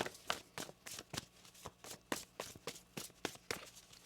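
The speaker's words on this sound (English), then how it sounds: "One more shuffle here." Quick, irregular riffling bursts of tarot cards being shuffled close by, repeating for several seconds with no talking.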